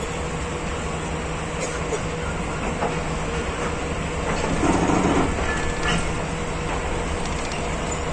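Hazara Express of Pakistan Railways rolling out of Rawalpindi, a steady continuous rumble of a moving train with faint clickety-clack of wheels over rails, swelling slightly in the middle, with occasional voices beneath.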